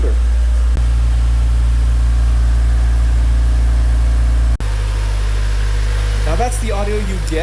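A Honda Civic EG with a Yonaka catback exhaust idles outdoors close to a phone mic, giving a deep, steady low rumble. A person starts speaking over it near the end.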